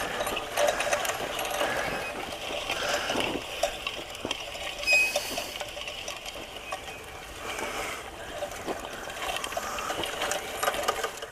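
A small garden tiller churns through loose soil with a steady, rattling mechanical whir that runs without a break, moderately loud and close, with no talking.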